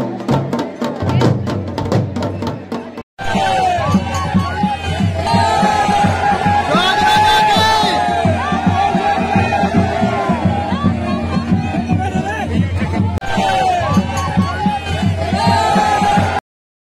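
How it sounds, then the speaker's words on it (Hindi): A big crowd at the Jakh Raja fair, where a deity is said to dance on burning embers, roars with whoops, shouts and cheers in a loud, continuous din, broken by a sudden cut near the start. "मेले में काफ़ी भीड़ लगी हुई है"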